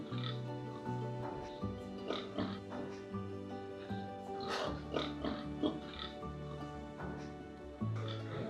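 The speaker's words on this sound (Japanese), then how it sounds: "まだ残ってる豚。" Pigs on a brand-pork farm grunt and oink repeatedly in an irregular series of calls at moderate distance, over a steady hum of background tones.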